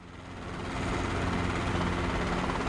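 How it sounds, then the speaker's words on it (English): Helicopter flying in Microsoft Flight Simulator 2024, a steady, dense rotor and engine drone that swells over the first second and then holds loud and constant, with no voices. "This is a pure VR helicopter in my mind."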